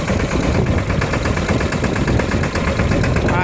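A tractor engine runs steadily in a farm field, loud and close, with a dense rhythmic diesel chug and vibration throughout and no voices.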